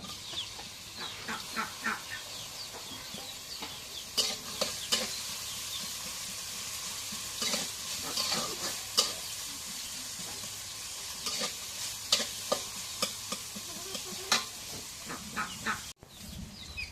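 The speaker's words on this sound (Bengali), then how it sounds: "এখন মরিচ কাটা, পেঁয়াজ কাটা, শুটকি দিয়ে দিই তেলের মধ্যে" Chopped chilies, onion and dried fish fry in hot oil with a steady crackling sizzle, punctuated by irregular spatula scrapes and knocks against the pan; birds call faintly in the background.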